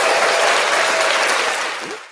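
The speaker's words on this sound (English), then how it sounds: "Give another round of applause for Lina." Studio audience claps for Lina on a live show, a brief loud burst of crowd applause that fades quickly.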